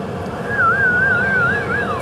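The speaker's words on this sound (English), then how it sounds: "That guy whistling" A man's whistled tune from a Gottlieb Ice Fever pinball machine, a wavering melody of about a second and a half over a steady low background of crowd noise and machine hum.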